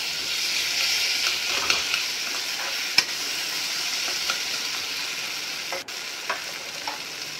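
Chopped tomatoes and spices cook in a pan with a steady soft sizzle, broken by a few light clicks and scrapes of stirring.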